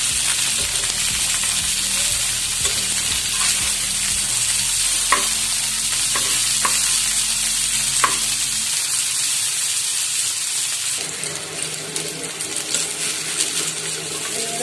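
Okra fries in mustard oil in a pan, a loud continuous sizzle with a series of metallic clanks from stirring before the frying noise shifts and steadies.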